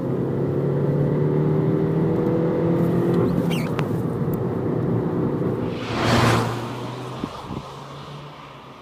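A 2015 Škoda Fabia TSI cruises along steadily with a low, even engine drone and quite low road hum, a brief whooshing swell passing midway before settling back.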